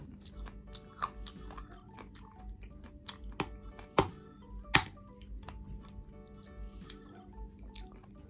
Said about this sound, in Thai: อันนี้กัดแล้วฟันจะหักไหม